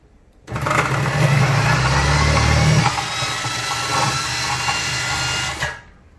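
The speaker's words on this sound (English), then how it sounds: "half an onion. I'm also going to shred it in. Put the onion in. Press it through." Half an onion is pressed through an electric food shredder, the motor whirring loudly and close for about five seconds, its pitch dropping midway as the onion goes through, with no talking.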